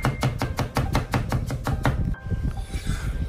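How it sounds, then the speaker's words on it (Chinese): A kitchen knife slices through peeled potato on a cutting board, cutting thin slices into fine shreds, with a quick steady run of close crisp chops that stops partway through. "切片之后也将它切成细丝"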